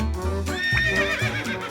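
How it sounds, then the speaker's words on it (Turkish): A horse whinnies in a single long, wavering neigh, loud and close, with low rumbling underneath and no talk over it. "Bu bir at."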